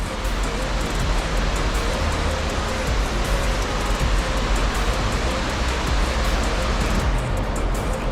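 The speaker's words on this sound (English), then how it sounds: "got the last waterfall. That's number 10, right there in the snow. That's Upper North Falls." Upper North Falls pours in the snow, a constant, dense roar of rushing water that stays loud and unbroken from start to finish, with no voices.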